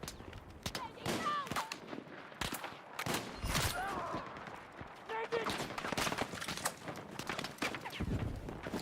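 Bursts of gunfire aimed at a dummy in the video game Industry, rapid clustered shots of varying loudness over mid-distance game ambience, with some chirpy effects between volleys.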